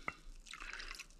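Red wine is poured into a jelly mixture in a kitchen, a short splash followed by a steady liquid trickle, close and fairly quiet.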